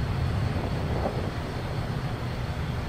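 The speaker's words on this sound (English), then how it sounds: "This is a 737 starting its takeoff roll." An overweight Boeing 737 jet on its takeoff roll down a runway, heard as a steady, broad engine roar with a low rumble, constant and unbroken throughout.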